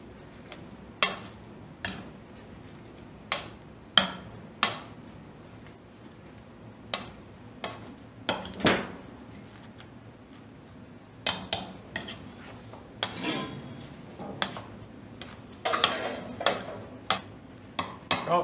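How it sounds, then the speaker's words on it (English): Hot potatoes mashed with butter in a pot, irregular sharp taps and clinks of a metal masher against the pot over a quiet background. "When our potatoes are hot, we will add some butter in the potatoes. And we will mash the potatoes."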